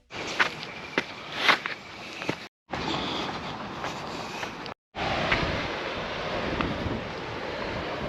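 Gusty wind on a beach at Mungo Brush, New South Wales, Australia, buffets the microphone with rumbling bursts, broken by two brief dropouts, with faint surf-like noise behind it and no talking.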